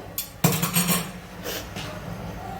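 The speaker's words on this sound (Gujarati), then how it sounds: "ફટાફટ આપણે મિક્સ કરીશું" Semolina ladoo mixture is stirred quickly in a bowl, with a sharp clink of a utensil against the bowl followed by scraping and knocking, then quieter mixing rustles.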